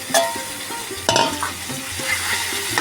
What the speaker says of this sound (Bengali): এখন আমি চিংড়ি মাছটা দিয়ে দিলাম